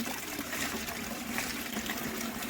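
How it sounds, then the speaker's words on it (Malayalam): Rainwater after a long, unbroken downpour rushes through a large drain pipe under the ground, a steady close gushing and gurgling flow with no voices. "അടിയില് വലിയ പൈപ്പ് ഉണ്ട് അതിലേ കൂടെ വെള്ളം പോകുന്നതാണ്"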